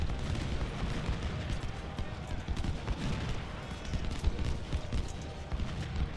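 Musket and cannon fire in Ultimate General: Civil War: a dense, continuous crackle of distant gunfire with scattered dull thumps, a steady rumbling battle din throughout.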